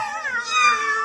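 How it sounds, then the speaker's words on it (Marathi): A house cat gives one drawn-out, clear meow at close range, rising and then falling in pitch, with no other sounds. "आमच्याकडे अजून एक मांजर आहे. बघायची असेल तर सांगा. आवाज करते."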